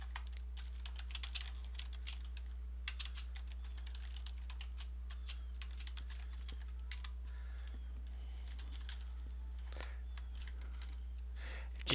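Someone types on a computer keyboard in quick, soft key clicks. The clicks come in irregular bursts over a constant low electrical hum and sound fairly faint and close.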